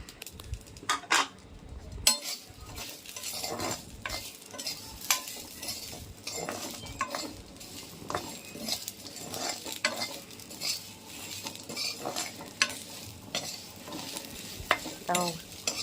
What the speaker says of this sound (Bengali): নিম পাতাটা ভাজা হয়ে গেছে, এবারে বেগুনটা মিশিয়ে দেবো এর মধ্যে